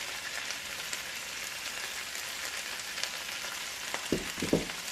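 Peppers, onions and carrots sauteing in a pan for chicken cacciatore, giving a steady soft sizzle throughout with a few louder crackles near the end.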